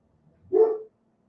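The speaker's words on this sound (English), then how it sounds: "that would be one of our dogs, Scout, who is a Great Pyrenees" A single deep bark from a large Great Pyrenees dog, short and fairly close, with silence before and after.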